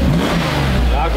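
A Mercedes W140 S-Class engine revs up close with a deep, rumbling tone, and voices talk over it throughout.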